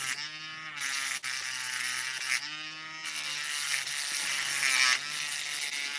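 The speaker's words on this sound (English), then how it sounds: "I'm doing the best I can with a Dremel here" A Dremel rotary tool grinds a lock pin, a continuous high whining buzz whose pitch dips and rises as it bears on the metal, close and steady.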